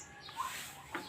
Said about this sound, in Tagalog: Sarap pakinggan yung mga huni ng ibon